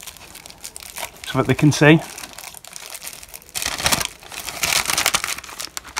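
Plastic wrapping on a comic book crinkles as it is unwrapped, with bursts of crackling between and after short stretches of nearby talk.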